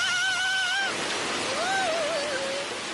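Heavy rain in a cartoon pours down as a steady, dense hiss, while high, wavering tonal voices sound over it.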